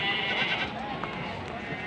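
Sheep bleat at the busy Singaparna livestock market in Tasikmalaya, where goats are also sold. Brief calls rise over a dense, constant murmur of crowd noise and voices.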